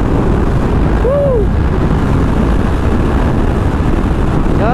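Yamaha MT-10 motorcycle ridden hard at high speed, a loud continuous engine roar blended with heavy wind rush, with a brief rising whine partway through.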